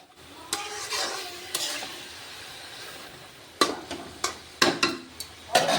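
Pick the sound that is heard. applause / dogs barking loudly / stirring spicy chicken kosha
stirring spicy chicken kosha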